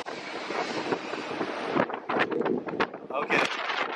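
Loud gusts of wind buffet the microphone on Deck 19 of the cruise ship Symphony of the Seas in a rough, roaring wash, broken by sharp thumps and rattles in the second half.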